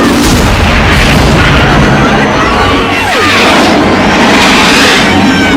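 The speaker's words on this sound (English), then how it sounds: "the thief guy hits the shuttle with one shot with that rocket launcher" A rocket launcher shot strikes a shuttle in the TV series V, a loud booming blast with a rising whoosh and rumbling, dense sustained noise throughout, with voices mixed into the din.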